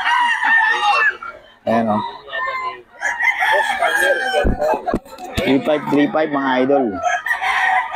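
Roosters for sale at a market crow repeatedly and loudly nearby, overlapping calls with some clucking, while someone talks over them.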